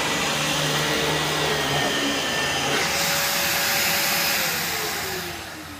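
A Dyson DC17 upright vacuum cleaner runs on carpet with a steady, loud motor whine and brush roll roar that holds close and unbroken throughout, easing slightly at the very end.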